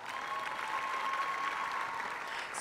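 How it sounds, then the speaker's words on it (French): An audience applauds a singer on stage, steady even clapping from a crowd filling the whole stretch with a faint tone running underneath. "avec les applaudissements, s'il vous plaît"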